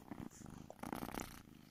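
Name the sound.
cat purring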